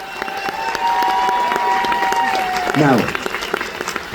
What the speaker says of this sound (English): So can we have a big round of applause for these two?